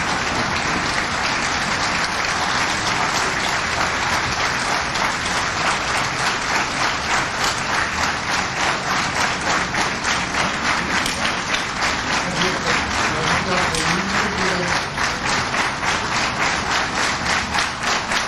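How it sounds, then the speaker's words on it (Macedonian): Dense, sustained applause fills a criminal court hearing for Dr. Zhan Mitrev, many hands clapping loudly and evenly for the whole stretch, with a faint voice murmuring underneath. "прво да заврши аплаузот"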